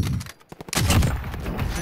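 A sniper rifle shot in the Call of Duty Warzone video game: a sharp, loud blast with a quick burst of echoing report, heard close up within a brief moment of gameplay.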